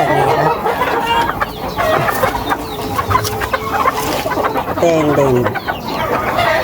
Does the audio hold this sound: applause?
no